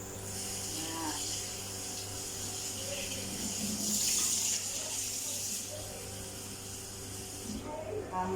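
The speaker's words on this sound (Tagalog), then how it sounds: "Tapos, huhugasan natin ang ating ilalahok na gulay." Running tap water for rinsing bottle gourd and coriander in a kitchen, a steady splashing flow heard in the background.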